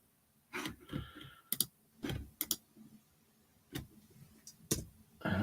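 Irregular computer keyboard typing: scattered sharp key clicks in small bursts separated by short pauses, close and fairly quiet against a near-silent background.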